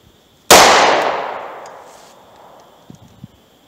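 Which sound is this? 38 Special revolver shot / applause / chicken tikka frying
38 Special revolver shot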